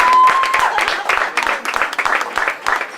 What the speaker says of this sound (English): Let's give a bigger round of applause for my mom.